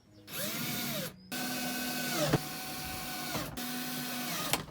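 A power drill drives four screws into place in bursts of steady whirring motor noise, briefly stopping between screws and pitching up as each one seats; close and loud, with no talking.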